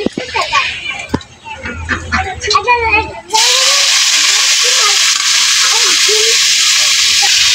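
Garlic fries in a pan with a loud, steady sizzle that starts suddenly partway through and holds to the end. Clattering and a voice come before the sizzle begins and continue under it.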